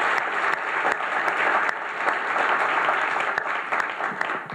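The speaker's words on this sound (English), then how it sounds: "Can we have a round of applause for all these people who made this possible?" Sustained audience applause fills the hall at the closing plenary of an internet governance forum conference in Taipei, dense steady clapping from a large crowd lasting throughout, with no speech over it.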